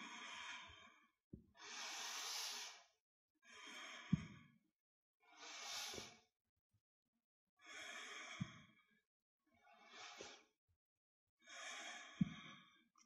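A person in a yoga studio takes slow, deep breaths: seven long breathy inhales and exhales spaced a couple of seconds apart, close and clear in otherwise quiet surroundings.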